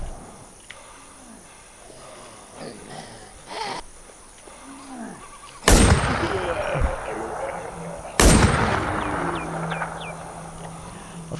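Mossberg 590 shotgun fires twice in The Warz, two loud, sharp blasts about two and a half seconds apart, each with a decaying tail over outdoor ambience with insect-like chirps and faint growls.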